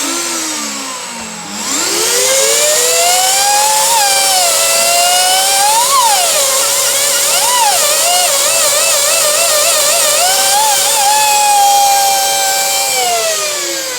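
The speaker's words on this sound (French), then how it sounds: "Donc ça, c'est une scie circulaire diamantée" Diamond circular saw cutting fluorite stone, a loud whining motor tone that starts up and then wavers in pitch as the blade bites into the stone, with no talk.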